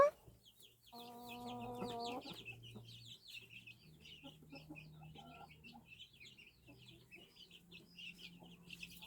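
A hen and a small rooster clucking close by in a farmyard, with soft repeated clucks, a brief harmonic call early on, and faint birds chirping in the background.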